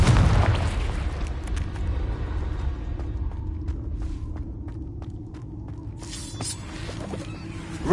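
Confringo fire curse explosion in Hogwarts Legacy, a loud booming blast at the start followed by a lingering rumble and scattered crackling debris, fading over several seconds.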